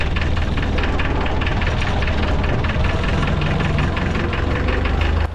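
An old McCormick tractor engine runs steadily at idle with a knocking, vibrating low throb. It is close, loud and continuous, and no one speaks.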